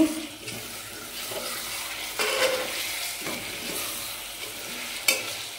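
Country chicken frying in a pan, with a steady sizzle and intermittent stirring scrapes close by, moderately loud and without talk.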